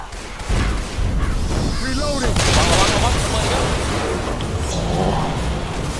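Rapid bursts of Left 4 Dead 2 gunfire crackle and pop over a busy, noisy mix, with excited voices talking throughout.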